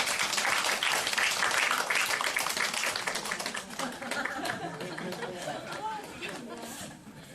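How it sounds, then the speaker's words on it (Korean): A church congregation during a Sunday morning service claps steadily in a dense round of applause that gradually fades, with murmured chatter mixed in. "여러분, 박수로 한번 격려해 주십시오."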